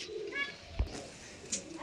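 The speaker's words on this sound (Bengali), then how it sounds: "এটা নর পায়রা" A male pigeon gives a soft, low coo, faint and close, with one brief thump midway and quiet background otherwise.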